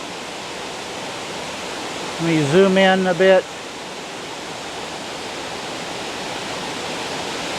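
Catawba Falls waterfall in spring, swollen with heavy snowmelt runoff, roars as a steady broadband rush throughout, with someone briefly speaking over it near the middle.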